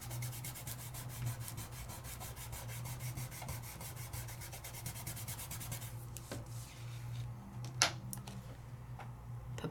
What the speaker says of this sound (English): Take my finger and burnish it up.